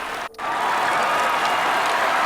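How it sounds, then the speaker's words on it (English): Crowd noise in a racing video game, a loud, continuous roar of cheering that drops out briefly near the start and then runs on steadily with no speech over it. "what's with this crowd noise?"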